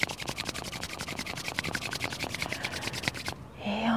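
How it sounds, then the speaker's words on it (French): Hands rub briskly together during a yoga session, producing a close, rhythmic series of dry swishing strokes at a steady quick pace before stopping. "de nouveau on frotte les mains"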